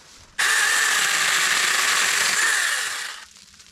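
A Seesii CH600 cordless mini chainsaw cuts through big tree branches, its high, steady electric motor whine starting abruptly, holding loud and close for about three seconds, then winding down.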